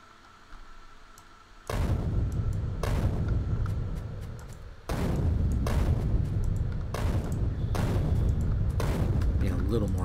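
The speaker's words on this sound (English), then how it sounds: "so I'm going to grenade them" Grenades burst against trees in the video game Factorio, several loud broadband blasts arriving in a quick irregular series, each sustained roar rolling into the next with no gaps of quiet.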